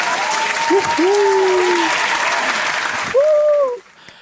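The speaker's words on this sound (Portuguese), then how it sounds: "Monique Lopes, uma salva de palmas" Applause on a podcast greets a guest, a broad steady burst of clapping filling most of the moment, with a voice speaking over it near the start and again at the end as it dies away.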